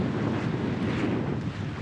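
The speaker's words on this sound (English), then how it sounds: "It's really windy" Strong wind blowing outdoors, a loud continuous roar buffeting the microphone with steady low rumble and broad hiss throughout, no other sounds standing out.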